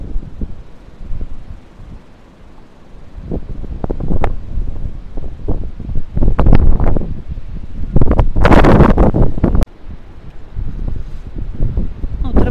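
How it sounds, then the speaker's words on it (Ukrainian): Gusty wind buffets the microphone in strong, roaring surges, peaking loudly partway through, with leaves rustling and a voice speaking intermittently. "Який сильний вітер, який вітрисько сильний."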